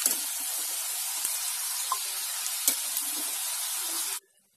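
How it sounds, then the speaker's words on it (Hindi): Shakkar pare, sweet Indian dough pieces, deep-fry in hot oil with a loud, continuous sizzling hiss and an occasional pop before the sound cuts off abruptly near the end. "सारे शक्करपारे इसी तरह से हम फ्राई कर लेंगे"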